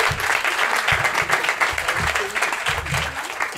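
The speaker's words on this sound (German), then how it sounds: "Ich mache schon Applaus für die Palästinenserin" An audience at a live stand-up comedy show applauds steadily, with dense, continuous clapping close by. Someone talks briefly in bursts underneath the applause.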